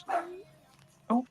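Two short, close dog barks or yips about a second apart, fairly faint, with a brief spoken exclamation.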